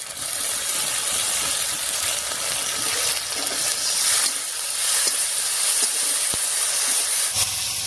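Ground ginger-garlic, cumin and chilli pastes sizzling loudly in a frying pan for a prawn dish, a dense steady hiss with a few stirring clicks.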